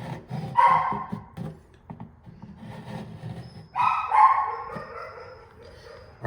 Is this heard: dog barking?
yes